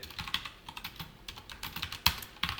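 Code typed on a computer keyboard: rapid, irregular key clicks, faint and close, with a few sharper taps standing out, and no talking.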